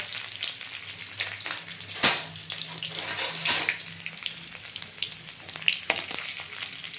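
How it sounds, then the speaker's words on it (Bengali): Garlic dropped into hot oil with frying five-spice seeds in a home kitchen pan sizzles loudly and steadily, with a few sharper crackles and stirring scrapes and no talking. "একটু পাঁচফোড়নটা ভাজা ভাজা হলে রসুনটা দিয়ে দিলাম"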